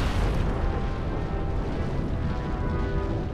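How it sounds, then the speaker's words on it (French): Sakurajima volcano in southern Japan erupting, a dense, continuous roaring blast of rumbling noise that stays loud and broad throughout, with no pause or voices. "Explosion. Panache de fumée et de cendres."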